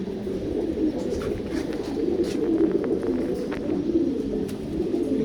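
Male Kalapati pigeon cooing in repeated low, throaty calls, near and steady, over a busy background of other birds and soft rustling.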